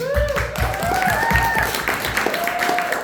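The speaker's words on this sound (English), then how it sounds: "Round of applause for my mom." An open mic audience claps for a performer's mother, a brisk round of applause with a voice speaking over the clapping throughout.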